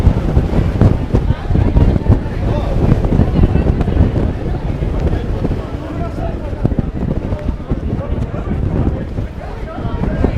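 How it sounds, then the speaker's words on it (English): Strong wind gusts roar across an outdoor skyscraper observation deck at The Edge, Hudson Yards, buffeting the microphone in a constant loud rumble while people talk over it. "we're battling against the wind"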